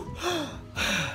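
A diving instructor demonstrates the fast, heavy breathing of someone tired: two quick, loud, close breaths, a sharp inhale followed by a forceful exhale.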